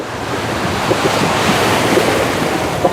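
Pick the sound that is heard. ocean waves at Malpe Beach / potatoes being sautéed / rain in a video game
ocean waves at Malpe Beach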